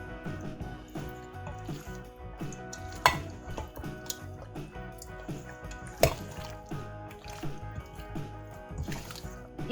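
Chicken for biryani is worked together with its marinade ingredients, giving wet squishing and stirring with occasional clinks against the dish; moderately close, continuous, and without talk.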